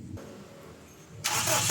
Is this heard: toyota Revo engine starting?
yes